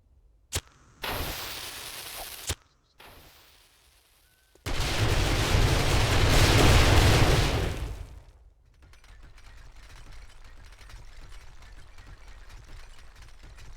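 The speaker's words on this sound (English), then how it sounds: "let's toss out 30 sticks of dynamite and see if that does the job" Thirty sticks of dynamite detonating against a horde base in the video game 7 Days to Die: a few sharp cracks, then a loud, sustained roaring blast lasting several seconds before fading into a lower rumbling tail, with no talk.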